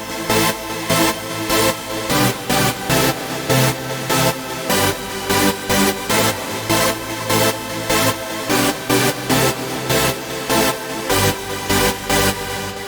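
A fat Sylenth1 synth lead in FL Studio plays stacked eight-note chords, pulsing in a steady, even rhythm of loud, bright stabs that keep going without a break.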